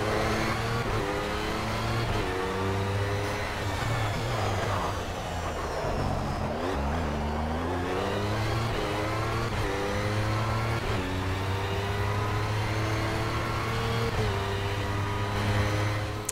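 Race cars lap Le Mans in Project CARS, with no rain falling yet. A loud, steady engine drone runs throughout, its pitch climbing and falling through gear changes, while other cars' engines mix in close by.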